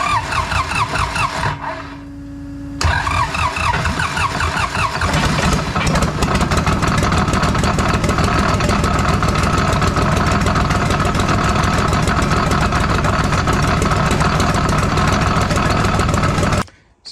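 A cheap secondhand skid steer engine mounted on a stand cranks and catches after a brief pause, then settles into a loud, steady, close idle that runs on before cutting off abruptly.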